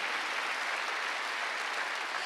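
A congregation at a Sunday church service applauding, a steady, even wash of clapping at moderate distance with no voices over it.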